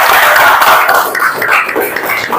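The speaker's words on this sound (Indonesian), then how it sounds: "Yuk, tepuk tangan dulu buat semuanya." Classroom of pupils clapping together after a lesson activity, a dense, steady wash of many small hands that stays fairly loud throughout without any talking.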